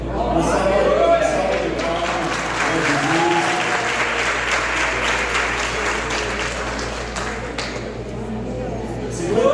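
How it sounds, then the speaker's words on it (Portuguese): Loud, sustained applause from a church congregation celebrating fifty years, dense clapping filling the whole stretch with crowd murmur mixed in. "Uma salva de palmas,"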